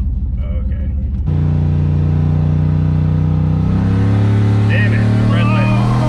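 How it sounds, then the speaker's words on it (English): Kyle's 6.2L GMC Yukon Denali does a burnout, its engine roaring loud and close in a sustained, steady drone whose pitch steps up partway through, and a voice calls out over it. "Oh my God, Kyle doing a burnout"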